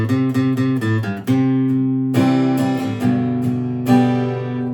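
Acoustic guitar riff in a stretchy C shape, with picked notes and ringing chords played solo, close and clear, with no talking.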